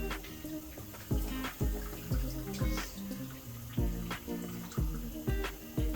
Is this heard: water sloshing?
yes